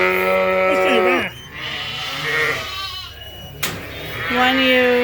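Lambs and ewes bleat inside a barn at Ewetopia Farms during a move to the next barn, several loud, close calls rising and breaking off in turn, with a sharp knock in between and some talking mixed in.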